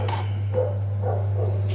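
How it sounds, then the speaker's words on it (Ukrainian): A few short dog barks sound faintly in the distance, spaced irregularly over a steady low electrical hum. "Я маю на увазі ось собачка,"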